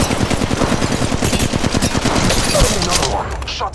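Rapid automatic gunfire from the mobile shooter Apex Legends Mobile, a loud, fast string of shots rattling for several seconds before tapering off, with game voices mixed in.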